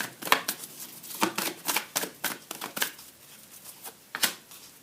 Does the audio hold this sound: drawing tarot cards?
yes